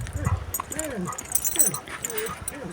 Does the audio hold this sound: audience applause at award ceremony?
no